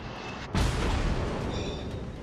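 A cruiser Atago's main naval guns fire in the naval warfare game World of Warships: one loud, deep boom with a long rumbling tail, preceded by quieter engine and ambient noise.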